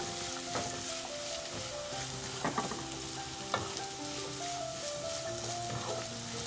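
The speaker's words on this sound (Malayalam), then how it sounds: "ഇനി ഇതിലേക്ക് 2 സവാള അരിഞ്ഞത് ചേർത്ത് കൊടുക്കാം. ഇനി ഇതൊന്ന് മിക്സ് ചെയ്ത് കൊടുക്കാം." Chopped onions fry with ginger and garlic in a pan for a Kerala-style mutton roast, giving a steady close sizzle broken by several scraping stirs and clinks, with no talking.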